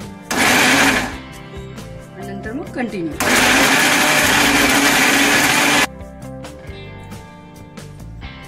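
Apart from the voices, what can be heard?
mixer grinder grinding masala paste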